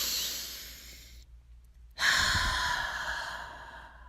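A deep, slow breath during guided meditation: a long airy inhale, a brief pause, then a fuller, louder exhale close to the microphone, with no words spoken.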